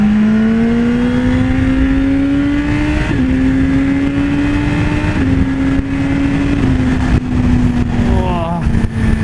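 A BMW S1000RR motorcycle engine drones loud and close at speed, its pitch climbing through gears with short drops at each shift, plus quick throttle blips near the end, with wind noise throughout.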